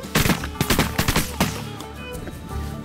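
Shotgun blasts ring out at ducks during a duck hunt, a rapid volley of about eight sharp overlapping shots from several guns in the first second and a half, then fading echoes and ambient noise.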